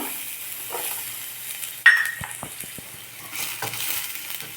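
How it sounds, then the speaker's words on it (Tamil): Snake gourd sautéing in a little oil in a pan, a faint, soft sizzle with a sharp metallic clink and a few light utensil knocks partway through. "இதை நாம் வந்து கொஞ்சம் எண்ணெய் விட்டு வதக்கிக்கணும்"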